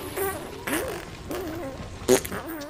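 A brief fart bursts out during a comedy sketch, a short blurt set among nearby voices talking and reacting.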